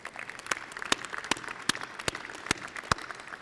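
Scattered applause at a Murray State University senior breakfast, with sharp individual claps standing out in an uneven rhythm over a thinner bed of clapping, fairly close.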